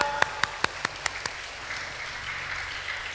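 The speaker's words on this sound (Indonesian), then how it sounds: "Kasih tepuk tangan dong." A handful of sharp, evenly spaced hand claps ring out near the start at an Easter evangelistic gathering for primary-school pupils in grades 4 to 6, then quickly fade into quiet room noise.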